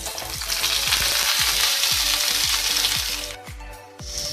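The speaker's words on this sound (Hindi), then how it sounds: "थोड़ा सा फ्राई कर लें और इसके साथ ही साबुत गोल मिर्च है।" Onions sizzle and crackle steadily in hot oil with whole black peppercorns, a dense, loud frying hiss punctuated by regular scraping strokes of a stirring spoon, while cooking a khichdi platter.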